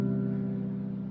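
A sustained piano seventh chord, the added seventh on top of a basic triad, rings out alone with a steady, full sustain, held evenly for about a second with no decay.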